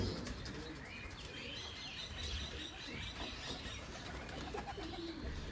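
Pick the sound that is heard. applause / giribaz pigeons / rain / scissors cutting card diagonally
giribaz pigeons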